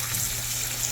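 Water runs steadily into a container being filled to clean brass cartridge cases with stainless steel pins. It gives a continuous close hiss and gush with no talking.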